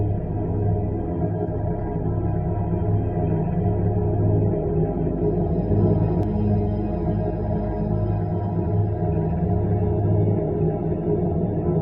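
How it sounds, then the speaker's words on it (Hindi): An eerie sound said to come from the Moon, sent back by the Chandrayaan 3 Pragyan rover and Vikram lander: a quiet, continuous low droning hum with faint warbling, whale-like tones, steady throughout. "रही चांद की रहस्यमयी आवाज।"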